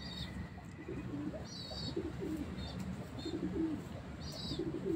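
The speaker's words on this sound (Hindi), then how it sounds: "उनकी तरफ से गिफ्ट आया हुआ कबूतर" A pigeon received as a gift coos softly in repeated low murmurs, with faint higher chirps from other birds in the background and no talking.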